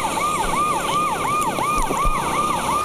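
A police siren wails steadily during a chase after a Jeep motorbike ridden through red lights, its loud, rising-and-falling tone repeating in regular cycles with vehicle noise beneath.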